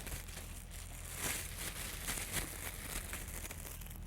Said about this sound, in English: get a regular plastic bag, food storage bag, and tear corner off of it to leave a hole